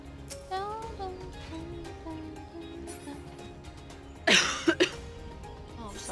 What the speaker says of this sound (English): The coughing is a side effect of the cold.